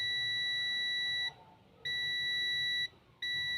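Multimeter continuity beeper sounding while a component is tested, giving three clear, shrill electronic beeps, two long and one starting at the end, separated by brief gaps of quiet room noise.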